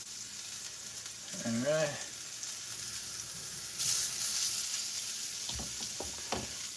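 Homemade meatballs fry in a pan with a steady low sizzle and hiss. A voice speaks briefly, and a few light clicks of utensils sound near the end.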